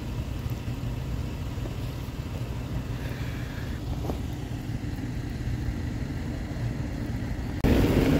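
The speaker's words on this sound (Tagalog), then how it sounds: "Pinainit ko muna yung sasakyan natin." Car idling while warming up on a snowy winter day, a steady low engine rumble running throughout, with a louder shift near the end and no speech.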